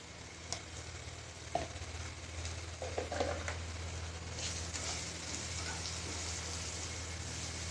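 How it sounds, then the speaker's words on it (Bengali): Vegetables frying with ground cumin, coriander and black pepper for Indian-style masala pasta, a steady low sizzle throughout with a few brief stirring clinks near the start. "আমি আর একটু সবজিটাকে ভালো করে ভেজে নেব"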